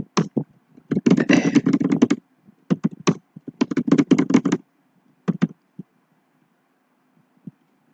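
Typing on a computer keyboard, close and crisp clusters of rapid key clicks in a few short bursts with quiet gaps between them, then a few last isolated taps.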